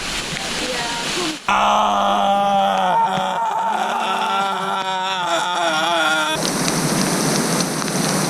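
Steady rain hissing and pattering in Algonquin Park, with a few low groaning tones partway through before the downpour sound returns to a broad wash.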